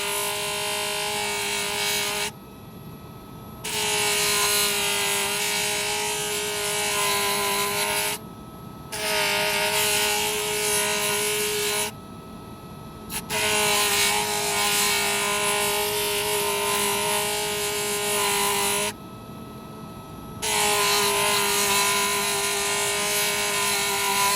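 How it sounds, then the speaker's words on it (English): A coarse scratchy burnishing tool worked over polished bronze metal clay, giving a steady, close, abrasive rubbing with a faint motor-like hum, broken by three or four short pauses. "we're going to go to the coarse scratchy razor, which remember, it burnishes, it doesn't take away metal"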